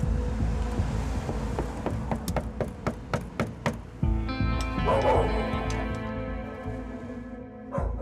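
Two large dogs bark repeatedly behind a door in a house, with loud, rhythmic woofs in a steady series that give way to a clatter of metal knocking and tapping, with faint background noise.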